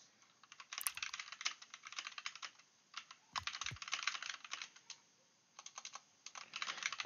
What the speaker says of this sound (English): I'm typing a note.